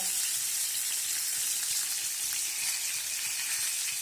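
Steady, dense sizzling and crackling of fish frying in hot oil, continuous and close, with no voices.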